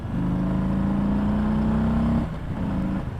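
A 2018 Harley-Davidson Low Rider motorcycle accelerates away, engine pitch rising steadily for about two seconds before easing off, the motor still rumbling loudly nearby afterward.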